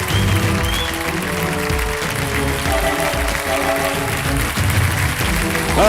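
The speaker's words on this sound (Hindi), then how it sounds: "जोरदार तालियों के साथ मैं चाहता हूं देव सज्जन उनका स्वागत किया जाए" On the Shark Tank India stage, a studio audience claps loudly and continuously as the investors walk out, with music playing underneath.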